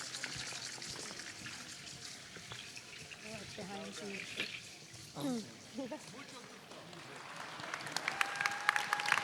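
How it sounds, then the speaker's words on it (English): Applause for a Team Mexico performance at a peace prize ceremony rises as a soft, hissing crowd clapping, with indistinct voices talking over it midway before the clapping swells louder at the end. "Let's go ahead and give them another round of applause."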